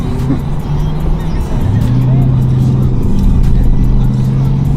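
Steady street traffic with cars passing close by, a continuous loud engine and tire roar with a sustained motor drone running through it.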